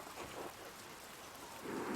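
Rain falling steadily in the medieval adventure game Pentiment, a continuous hiss that swells louder near the end, heard alone without voices.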